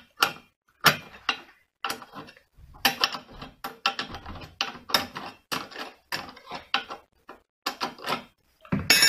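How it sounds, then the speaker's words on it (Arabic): A bolt on a bicycle crank's square-taper spindle is unscrewed, producing rapid bursts of sharp metallic ratcheting clicks, close and crisp, stopping and starting in quick irregular runs. "انا بفك كده الاول المسمار."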